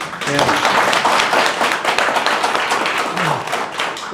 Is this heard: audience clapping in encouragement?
yes